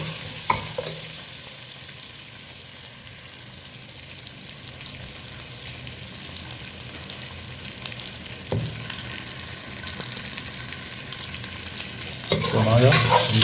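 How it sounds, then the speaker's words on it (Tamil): Green mango pieces sauté in oil for a village-style ayila (mackerel) fish curry, a steady low sizzle with stirring scrapes throughout and a louder burst of frying noise near the end; no one speaks. "மாங்காய் கொஞ்சம் எண்ணெயில் கொஞ்சம் அப்படியே வதங்கட்டும்"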